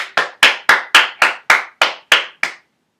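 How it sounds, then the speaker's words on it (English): Ten sharp, evenly spaced hand claps from a single person, loud and close, fill about two and a half seconds in honor of a race finisher, then stop. "Let's give him a round, let's give him a big round of applause."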